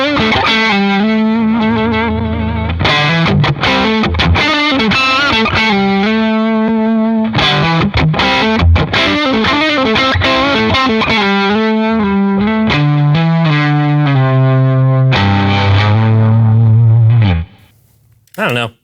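Electric guitar played through a Chatbreaker distortion pedal on a praise and worship pedalboard, giving sustained, saturated chords and notes with some echo, loud and continuous before cutting off near the end.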